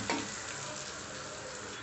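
Garlic, onion and curry leaves sauté in a pan for a Tirunelveli-style venthaya kuzhambu, giving a steady, soft sizzle of frying with a faint stir at the start.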